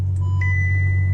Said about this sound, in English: It's beeping because we're in reverse.